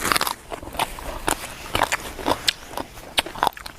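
Crisp bites into crunchy battered fried salmon belly from a Thai som tam dish, several sharp crackling crunches spaced irregularly over a few seconds, close up with no speech.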